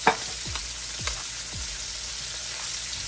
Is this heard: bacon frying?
yes